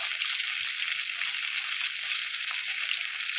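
Cauliflower florets fry in a kadai over a medium flame, giving a steady, even sizzle of hot oil that stays constant throughout with no talking.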